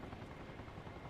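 A helicopter in the game Arma Reforger gives a steady low rotor drone, continuous and fairly faint, with no talk over it.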